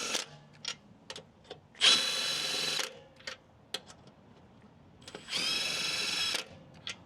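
Milwaukee M12 stubby 3/8-inch impact wrench (2562-20) running in its slower fastener mode on brake work, two sustained bursts of buzzing hammering about a second each, close and loud, separated by clicks and handling noises.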